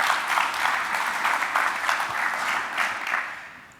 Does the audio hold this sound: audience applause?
yes